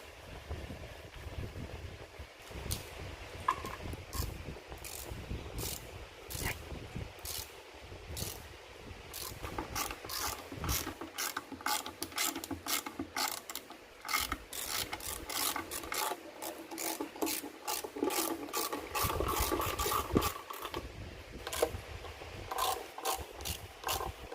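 A hand ratchet clicks in long, rapid bursts while bolts are tightened on an Edelbrock intake manifold on a 318 V8 being rebuilt for a 1970 Dodge Charger. The clicking is close, steady and continuous, with brief pauses and no speech.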